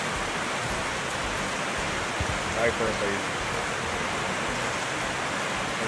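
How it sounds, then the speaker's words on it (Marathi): Steady rain falls outside, a constant broadband hiss filling the scene, while someone speaks briefly over it. "बाहेर पाऊस चालू आहे"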